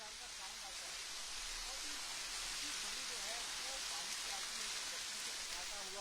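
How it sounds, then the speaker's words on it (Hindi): A steady, dense rush of water flowing down over rocks in a waterfall during heavy rain, a constant broadband hiss without pause throughout. "जब झरने का जो साउंड होता है, हम भी कोशिश करेंगे दर्शकों को सुनाए कि जब पानी बहता है तो किस प्रकार का साउंड आता"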